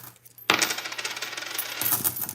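Nickel coins from opened bank rolls spill out in a dense, jingling metallic clatter that begins abruptly and continues as a close, busy cascade for about two seconds.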